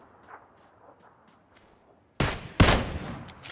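Gunfire in PUBG on the desert map: after a quiet stretch, two loud, close bursts of shots hit in quick succession and ring out to the end.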